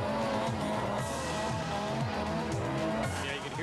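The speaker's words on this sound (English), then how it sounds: "you can hear the throttle working overtime" Rally car in the 1993 Canadian Rally Championship, a small Honda working its throttle on a slushy, slippery road, engine pulsing in repeated revs over a steady roar with tyre noise, heard beneath commentary.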